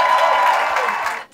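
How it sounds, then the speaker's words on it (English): An audience at an amateur theatre evening applauds in a dense, steady burst of clapping with faint cheers, close and loud, cutting off abruptly at the end. "Everyone deserves a massive round of applause for those performances this evening"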